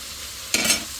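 Leafy greens cooking in a pan on a stove burner, a steady low hiss that jumps partway through into a louder sizzle and stirring scrape, close by with no talking.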